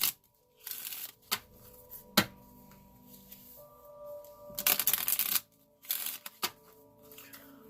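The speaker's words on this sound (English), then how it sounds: "as I shuffle the cards" Tarot cards riffle and slap together in several quick bursts with short pauses between, close and crisp, no talking.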